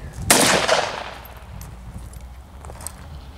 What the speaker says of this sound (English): First firing with the AK.